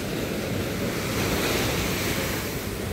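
Sea waves breaking on the shore of an island beach, a steady continuous roar of surf mixed with wind buffeting the microphone, with no voices.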